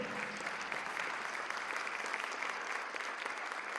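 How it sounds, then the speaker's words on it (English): At a Tower of Power band concert, the crowd applauds the vocalist with sustained clapping and a few scattered cheers, steady and fairly distant throughout. "let's give a round of applause for Hannah Idrissi Alami"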